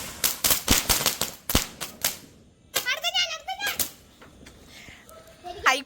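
Diwali firecrackers set off by a family burst in a quick string of loud, sharp cracks, then a pause, then a crackling flurry followed by voices.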